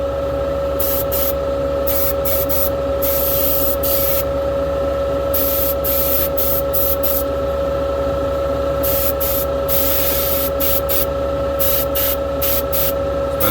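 An airbrush spraying paint onto a race car model, a steady close hiss in repeated bursts of varying length with brief pauses between, over a constant electrical hum, with no talking.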